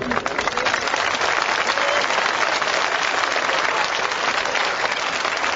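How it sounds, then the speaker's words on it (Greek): An audience at a public assembly on direct democracy claps steadily, a dense sustained wash of applause from many hands that fills the room throughout. "παρακαλώ να μην χειροκροτάτε"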